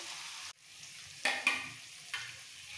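Sour yogurt goes into a pan of frying potatoes and spices for white aloo dum, with a soft steady sizzle broken by a few sharp stirring scrapes and spatula knocks, close and alone.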